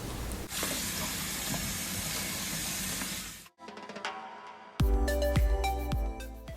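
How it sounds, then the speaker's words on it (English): Water rushes and splashes steadily into a sink, stops briefly, then clattering and pouring resume with hard knocks of pork bones shifting in a metal colander. "Drain all the bones in a colander."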